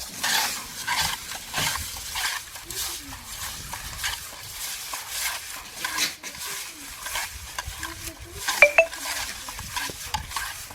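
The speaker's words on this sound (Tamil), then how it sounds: "உப்பு போட்டு வளைச்சி எடுத்துக்கிறோம்" Cleaned fish being tossed with rock salt by hand in a bowl, making soft wet squelches and gritty scraping in irregular bursts, close and fairly quiet, with a sharp clink of the vessel near the end.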